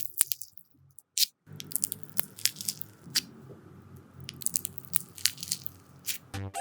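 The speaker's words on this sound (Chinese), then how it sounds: "所以这次我做了一个彩色冰淇淋声控你" Colorful ice cream slime is squished and pressed close up, giving soft wet squelches and crackly bubble pops in irregular bursts with brief quiet gaps, no talk.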